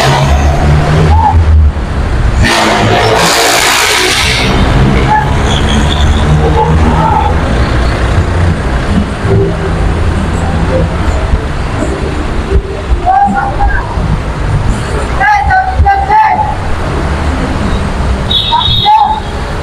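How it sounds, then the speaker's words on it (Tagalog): Heavy street traffic on Aurora Boulevard in Cubao, Quezon City, heard from the sidewalk: a constant close rumble of engines with passing vehicles and occasional sharper bursts, with some voices in between. "sobrang traffic talaga dito sa bandang Aurora"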